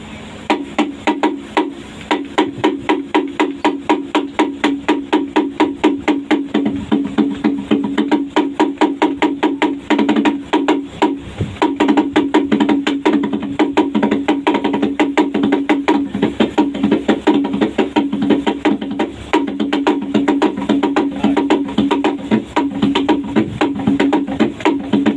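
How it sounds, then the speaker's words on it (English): A T'boli nonggong, a wooden drum with a deer-skin head, beats a fast, steady rhythm of close strokes for about twenty-five seconds, layered with other ringing percussion in a continuous ensemble groove. "And the last of all the musical instruments is called the nonggong, or a wooden drum,"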